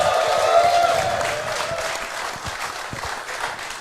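Live audience at a Talkin Yanks taping at T-Squared Social applauds steadily in a room, loud clapping that thins slightly over a few seconds, with a faint voice or tone briefly over it at the start.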